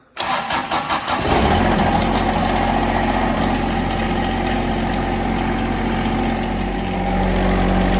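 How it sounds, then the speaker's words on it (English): A John Deere X750 lawn mower engine cranks briefly, catches, then settles into a loud, steady idle that holds for the remaining seconds, close by with no talking. "Start the mower, let it run for about 60 seconds."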